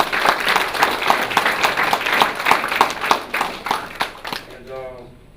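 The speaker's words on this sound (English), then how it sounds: "Y'all can clap it up for her." Audience at a spoken-word arts night claps for a performer's sister, rhythmic clapping and crowd noise that taper off, with a voice speaking at the very end.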